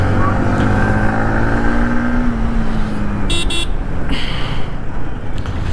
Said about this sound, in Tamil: இருங்க, டிராஃபிக்காக இருக்குது,